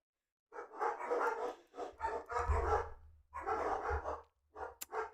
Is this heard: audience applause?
no